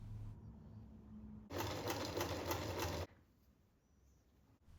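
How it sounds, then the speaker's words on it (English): Sewing machine stitching down the open edge of a flap on Swiss flag fabric, a single loud, even buzzing run of rapid stitches for about a second and a half, with quiet room hum before and after. "pull them upwards and just sew down along its open edge"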